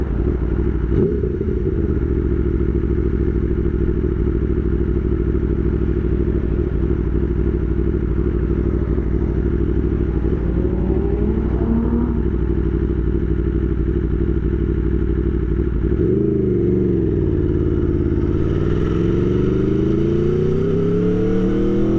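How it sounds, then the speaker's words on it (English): Aprilia Tuono Factory 1100 motorcycle ridden over a rough, bumpy road: a steady, loud engine drone with rattling clatter and thumps, the pitch dipping and then climbing again near the end as the rider rolls on the throttle. "Take it to this little road over here I like to check out sometimes"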